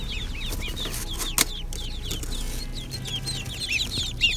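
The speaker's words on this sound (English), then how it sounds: "Holy ducks and a goose." Domestic ducks and a goose outdoors on a rainy May day, giving scattered quacks and honks amid busy bird calls, with a sharp louder call near the middle and another near the end.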